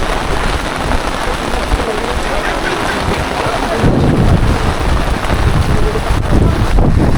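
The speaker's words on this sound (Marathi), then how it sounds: "आता तुफान पाऊस आलाय." Heavy monsoon rain pours steadily at Raigad Fort, a dense broadband roar that grows louder midway, with gusty wind buffeting the microphone and no clear thunderclap standing out.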